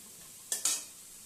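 Potatoes seasoned with salt and turmeric, fried and stirred in a pan, two quick scraping, sizzling strokes close up.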